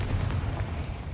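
The Confringo explosive spell in Hogwarts Legacy detonates with a short, heavy booming blast, low and rumbling, lasting about a second with no speech.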